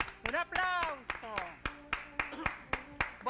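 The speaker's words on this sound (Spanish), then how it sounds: "¡Un aplauso!" Sharp, evenly spaced hand claps ring out in a steady rhythm at a live audience show. Voices talk and sing over the clapping, which stays close and distinct throughout.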